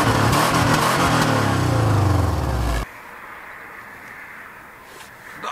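A Subaru Legacy 2.2 GX AWD petrol engine revs loud and close, its pitch rising and climbing for a few seconds before cutting off abruptly, leaving a quiet background.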